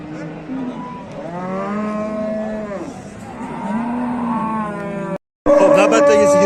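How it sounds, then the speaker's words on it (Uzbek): A Russian-breed cow moos repeatedly at a livestock market, long drawn-out lowing calls close by, one after another, ending in a louder, brighter call after a brief gap. "Navbatdagi sigirimiz rossiyskiy sigir."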